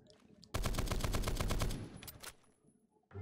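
Gunfire from a video game AK-12BR rifle fitted with a .50 caliber conversion: a loud rapid burst of about a dozen heavy shots lasting just over a second, followed by a few separate trailing shots and echoing tail.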